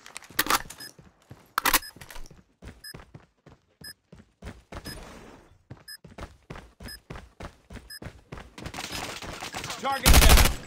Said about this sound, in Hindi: करो रैन। Firing firing